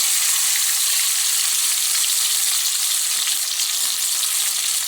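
Tomato-coated fish fillets fry at high heat in a hot pan, giving a loud, dense, unbroken sizzle that holds steady for several seconds at close range, with no talking.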